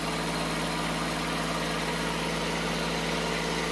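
A Kubota tractor engine idles steadily up close, a constant mid-to-low drone with a faint vibrating rumble and no change in pace throughout.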